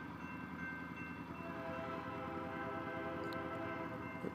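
A train rumbles past close by with a steady, sustained horn tone held over the heavy rolling noise, heard from a stopped 2021 Triumph Tiger 900 motorcycle.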